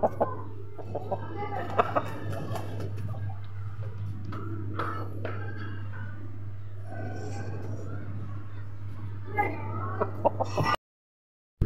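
Chickens cluck and squawk in scattered bursts over a steady low hum, with a rooster among them, fairly close.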